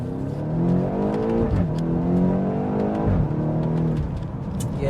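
BMW X6M on Dunlop tyres accelerating hard, a heavy 2,300 kg SUV whose engine note climbs steadily in pitch, drops at gear changes, then rises again, loud and close with no talking.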